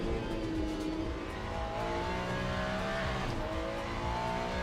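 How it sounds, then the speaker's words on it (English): Race car engine note in the Le Mans Ultimate racing game, a loud continuous high-revving drone with shifting pitch and hints of tire squeal, steady throughout with no talking. "the engine notes sound separate to the car, what the car's actually doing."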